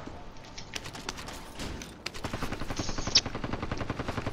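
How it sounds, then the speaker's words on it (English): Rapid automatic gunfire in a video game shooter, starting as scattered shots and building into steady, continuous bursts from fairly close by. "They're shooting upstairs."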